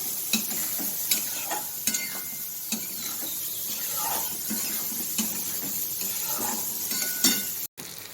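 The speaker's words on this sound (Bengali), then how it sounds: "মশলাটা কষে নিই" Spice paste for a hilsa fish curry sizzles in a pan while a spoon stirs it, with steady frying hiss broken by scraping strokes and clinks. Close, no speech.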